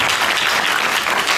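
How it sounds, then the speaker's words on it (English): A church congregation applauds in a burst of dense, even hand clapping, loud and close throughout the brief moment. "Let's give God a hand clap of praise"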